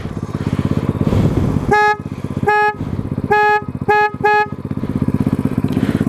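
A Venom X22 (Xpro X16) motorcycle horn honks five times in short loud blasts over a steady idling engine rumble.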